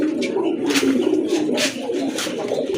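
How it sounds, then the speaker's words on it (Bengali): Pigeons coo in a close, continuous low rolling murmur, several birds overlapping. "মাশাল্লাহ আরেক জোড়া কবুতর দেখতে পাচ্ছেন"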